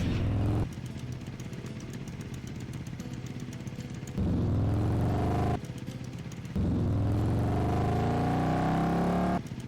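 Motorcycle engine in the video game Doom II, revving loudly in repeated surges that rise and drop over about ten seconds, close and steady with no talking.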